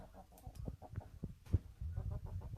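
A rooster kept indoors at a home during the Dashain festival gives a series of short, throaty clucks and calls in uneven bursts, fairly close, with no talking.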